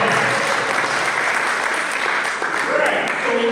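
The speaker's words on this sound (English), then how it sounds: "Auntie Deaconess Jada with a lovely round of applause" An audience at a children's programme during a church carnival camp gives a round of applause, a steady broad crowd clapping throughout with voices mixed in.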